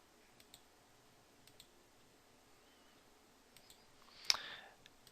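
Computer mouse clicks during office software work: a few faint, scattered ticks, then one sharper, louder click near the end followed by a brief rustle, in a quiet room.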